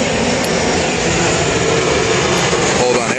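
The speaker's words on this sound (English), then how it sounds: "Hold on, airplane." A loud airplane passes overhead, a steady broadband engine roar filling the whole clip at an outdoor firearm-testing spot, constant and close.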